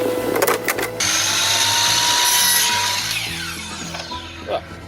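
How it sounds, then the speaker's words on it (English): A drop saw slices through a wooden loose tongue in a workshop, a loud whining motor spinning up, biting into the wood for a couple of seconds, then winding down. "Now that I've marked it, I need to cut it, and the drop saw is over there."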